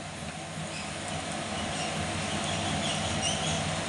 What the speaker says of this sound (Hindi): जीरा हमारा अच्छे से काला हो चुका है, अच्छे से चटक गया है